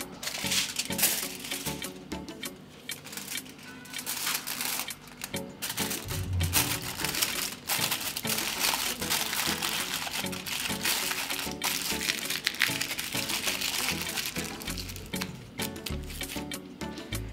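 Plastic wrap or freezer bag crinkles and rustles steadily as diced vegetable cubes are packed for freezing, a close, continuous crackle with small taps and handling noises and no voices.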